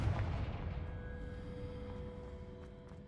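A Confringo fire spell erupts in the Hogwarts Legacy video game, a heavy rumbling blast that starts loud and decays slowly into a low sustained roar with faint tonal ringing.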